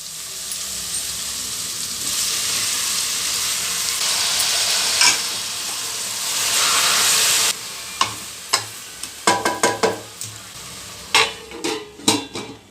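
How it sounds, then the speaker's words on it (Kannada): Tomato sizzles and fries in a hot pan for drumstick gojju, a steady close hiss for several seconds, followed by a series of sharp stirring clanks and scrapes of a utensil against the pan. "ಒಂದೆರಡು ನಿಮಿಷ ಇದೇ ಥರನೇ ಇದು ಫ್ರೈ ಆಗಬೇಕು ಈಗ ಇದಕ್ಕೆ ಟೊಮಾಟೊ ಸೇರಿಸ್ತೀನಿ"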